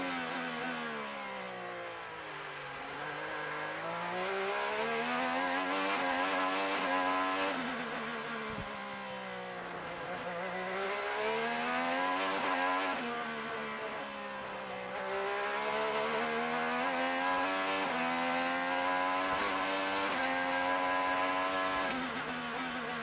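IndyCar race car at speed on the Toronto street circuit, heard from on board: a loud, continuous engine whine that rises and falls through gear changes and braking across the lap, with no talk.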